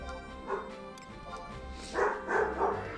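Dog barking outdoors, heard faintly from a distance through the house, a few scattered yips followed by a short burst of three or four louder barks.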